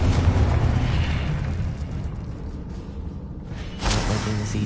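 A Confringo fire spell bursts in Hogwarts Legacy, a rumbling blast that fades over a few seconds before a second sharp boom near the end.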